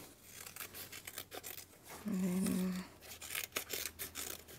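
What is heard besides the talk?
cutting scrapbooking paper with giant scissors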